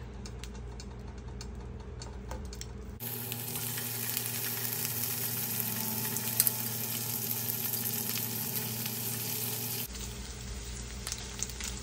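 Smoked pork sizzles and fries in melted butter in a pan, a steady close crackle that swells loudly for several seconds in the middle before dropping back to a quieter hiss.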